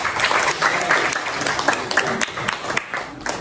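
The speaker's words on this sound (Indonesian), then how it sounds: "Tepuk tangan untuk kelompok 4." A classroom of students claps for group 4, a dense burst of applause lasting a few seconds with scattered individual claps standing out.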